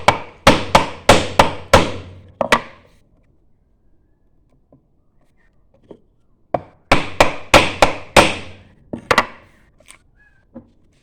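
A flat chisel struck by hand while carving a lowercase letter m in wood: two bursts of about six sharp, evenly spaced knocks, separated by a quiet stretch with a few faint taps.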